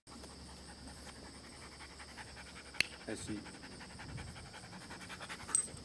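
A dog pants in quick, soft rhythmic breaths close by, faint under someone speaking French to it in a quiet indoor space, with a couple of small knocks and rustles.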